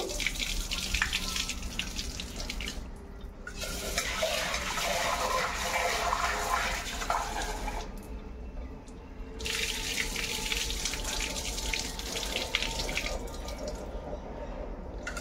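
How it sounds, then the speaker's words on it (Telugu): Water runs steadily from a tap into a bowl, sloshing as hulled urad dal is rinsed, with a couple of brief pauses in the flow. "మినప్పప్పు కూడా కడుగుతున్నానండి"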